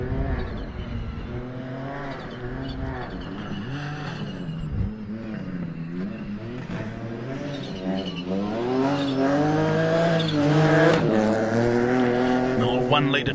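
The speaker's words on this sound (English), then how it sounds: "1 litre turbo power plants in the Rally 4 cars, so they've got that offbeat 3-cylinder sound to them" A Rally 4 car with a 1-litre turbo three-cylinder engine drives a rally stage, its offbeat engine note rising and falling through gear changes and growing louder near the end, with a commentator talking over it.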